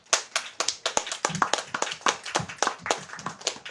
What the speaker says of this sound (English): did that on purpose just to hear you guys clap twice